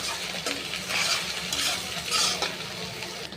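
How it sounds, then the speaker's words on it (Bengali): Spiced noodle mixture with black pepper being stirred in a pan, quiet scraping and clinking of a utensil in uneven strokes over a faint sizzle. "এখন এটা ভালোভাবে নেড়ে নেব।"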